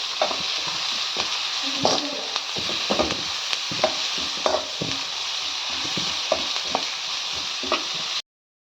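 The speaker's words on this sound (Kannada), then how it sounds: "ಫ್ರೈ ಆಗ್ತಾ ಇದೆ ಚೆನ್ನಾಗಿ ಫ್ರೈ ಮಾಡ್ಕೊಳ್ಳಿ ಕೆಂಪು ಕೆಂಪು ಆಗಬೇಕು" Food frying in a pan, a steady close sizzle broken by frequent irregular scraping and knocking of a spoon stirring against the pan, ending abruptly in silence.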